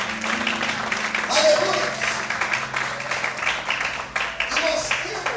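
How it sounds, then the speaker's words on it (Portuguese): Church congregation applauding during an evening Easter service, a dense steady wash of clapping with voices and a spoken exclamation mixed in throughout. "Todos podem levantar as mãos para o céu e aplaudir ao Senhor nessa noite."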